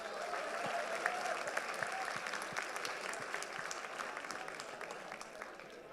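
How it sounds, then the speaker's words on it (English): Room full of attendees at an induction programme claps and cheers for one more birthday, a sustained, even burst of applause with scattered sharp claps and faint shouts throughout. "One more cheer. We have one more birthday."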